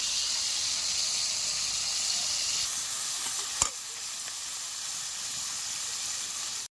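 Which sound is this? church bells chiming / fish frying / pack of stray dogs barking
fish frying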